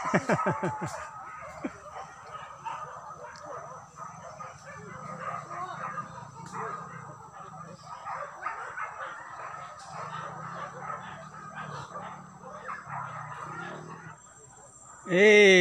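A dog yips, barks and whimpers repeatedly at close range in a busy outdoor setting with chickens about. People talk throughout, and a sharper cry comes right at the end.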